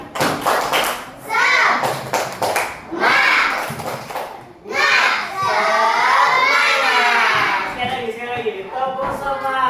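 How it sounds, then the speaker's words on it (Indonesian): Children in a classroom clap a rhythmic spirit clap together, close by and loud, with their chanting voices mixed through the claps. "Tepuk semangat."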